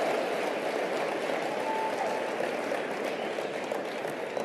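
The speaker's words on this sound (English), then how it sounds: "Give her a round of applause." An audience at a motivational speech claps, a dense, even wash of applause heard from a distance at a moderate level throughout.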